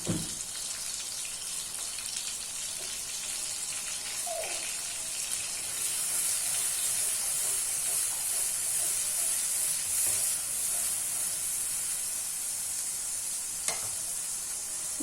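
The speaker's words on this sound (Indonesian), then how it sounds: "saya lanjut ini memasak sambalnya ya teman-teman" Sambal frying in a pan, with a steady, fairly quiet sizzle and occasional stirring scrapes and clinks that continue for the whole stretch.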